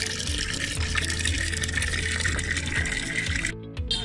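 Water gushes steadily from a newly built well in a village on Pitas Island, a loud continuous splash that cuts off abruptly near the end.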